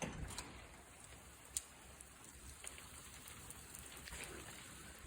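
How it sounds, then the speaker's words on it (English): Hail falling outside on a cold day, heard from indoors as a steady faint patter with a few sharper ticks. "it sounds like it's hailing outside."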